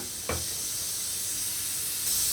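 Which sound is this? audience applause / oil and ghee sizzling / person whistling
oil and ghee sizzling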